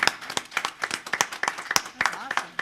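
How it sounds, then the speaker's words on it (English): Applause from an audience of educators in a conference room, a short burst of fairly sparse, distinct hand claps from a modest crowd. "let's take a moment to give them a round of applause"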